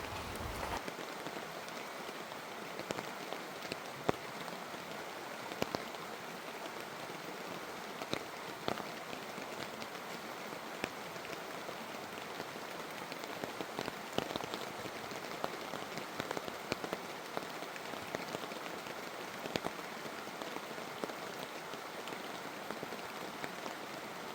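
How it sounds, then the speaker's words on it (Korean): Wind-driven rain falls at an open-field campsite, a dense, even patter of drops on surfaces that runs unbroken throughout, fairly soft and with no voices. "지금 비바람이 불고 있어요."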